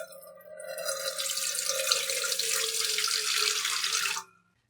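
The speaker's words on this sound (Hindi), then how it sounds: "पतीले के अंदर हम पानी ऐड करेंगे," Water runs steadily into a large cooking pot set up for steaming, a continuous close splashing pour lasting about four seconds before stopping abruptly, with no talking.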